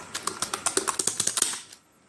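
Fast typing on a computer keyboard, a quick run of about fifteen crisp key clicks in an uneven rhythm, close and clear, stopping abruptly and leaving near silence.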